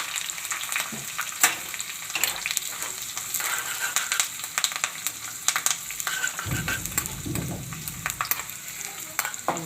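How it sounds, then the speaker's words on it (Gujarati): Green chillies and curry leaves sizzle and crackle in hot tempering oil, a loud, busy spatter of pops up close, swelling into a sudden hissing burst partway through. "હવે આપણે આ મરચાં નાખી દઈએ અને આપણે મીઠો લીમડો નાખી દઈએ."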